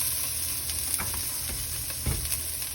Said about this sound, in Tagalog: ilalagay na natin yung ating sibuyas para kasama na niya